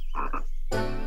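Cartoon frogs croak in a children's animated train show about counting green frogs: two quick, throaty croaks, then a brief pause and a louder, buzzing, sustained croak that fills the end.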